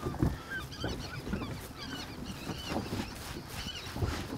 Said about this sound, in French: on est sous les oiseaux pratiquement là